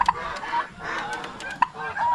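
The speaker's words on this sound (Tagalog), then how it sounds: "May mga bagong pabo" Farm fowl, including turkeys and roosters, call close by, with overlapping clucks, honks and sharp squawks in a busy, continuous chorus over a couple of seconds.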